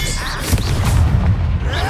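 A Confringo spell explosion in the Hogwarts Legacy video game: a short, loud, booming blast with a crackling tail, close and dense, lasting under two seconds.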